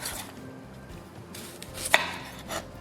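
A knife taps lightly against a cutting board while finely dicing a small piece of peeled ginger root, with soft, faint, irregular chops and one sharper click standing out.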